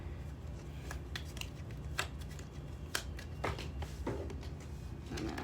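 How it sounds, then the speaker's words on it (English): Tarot cards being shuffled close by, a steady papery riffling with sharp snaps and flicks as the deck is cut and bridged, continuous for several seconds with no talking. "I'm gonna shuffle out one more time."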